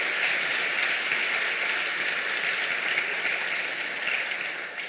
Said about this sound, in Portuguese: Vale até um aplauso isso.